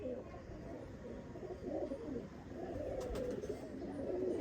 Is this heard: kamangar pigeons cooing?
yes